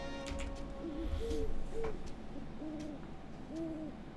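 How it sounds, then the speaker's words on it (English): An owl hooting in the video game The Witcher 3, soft repeated two-note hoots spaced a second or so apart over a hushed, breezy night ambience. "that an owl with a hat?"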